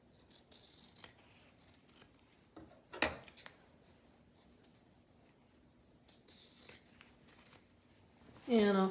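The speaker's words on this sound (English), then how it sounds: "I will snip off my excess fabric here" Scissors snipping off excess fabric from a sewn wine or cocktail cozy, a few faint, close crisp cuts scattered among quiet handling noises, with a person speaking softly in between.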